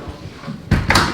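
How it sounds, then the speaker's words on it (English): A door pushed shut indoors, a soft thud followed by a second muffled knock a moment later, close and moderately loud against low room noise. "let's close the door"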